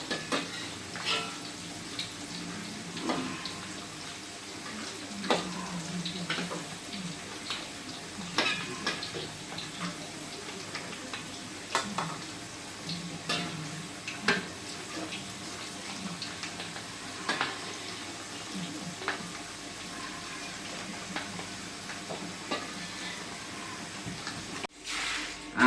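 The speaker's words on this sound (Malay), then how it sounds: "setelah jariang go digoreng pakai minyak" Jengkol (jariang) fries in oil in a pan, a soft steady sizzle broken by frequent clinks and scrapes of a utensil stirring against the pan, with occasional louder knocks.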